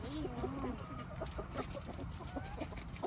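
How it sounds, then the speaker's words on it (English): Chickens on a farm cluck and murmur in a steady, busy chorus, close by with soft background noise. "Come on, chicken."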